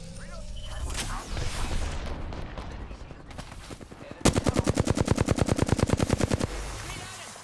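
Gunfire in the shooter game Apex Legends: scattered shots and bursts early on, then a loud, rapid automatic volley of about two dozen evenly spaced shots lasting roughly two seconds, followed by quieter ambience.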